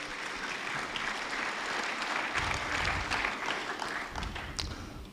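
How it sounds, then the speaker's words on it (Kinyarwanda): Applause from a church congregation during a worship service: dense, steady clapping from many hands that fills the whole stretch, loud and close, with a few heavier thumps mixed in. "Mukomere Imana amashyi mu izina rya Yesu."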